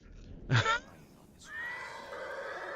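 A horse neighs loudly in the video game Ghost of Tsushima, a short bright whinny that rises and fades, followed by quieter tonal game sounds.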